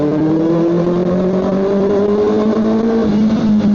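A Kawasaki ZX-4RR motorcycle engine revs loudly up close through its exhaust, its pitch climbing steadily in a sustained run with no talking.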